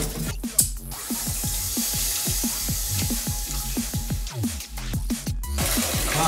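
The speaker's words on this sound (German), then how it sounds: "Du sagst Bescheid und dann läuft trotzdem das Wasser" Water runs out of an open pipe during a heating repair, a steady close rushing and splashing with rhythmic gurgling pulses that continues throughout.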